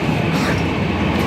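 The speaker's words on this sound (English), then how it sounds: "Train is very fast." The Rajdhani Express running fast between Delhi and Kolkata, heard from inside as a steady, loud low rumble and rattle of the rolling train with no clear breaks.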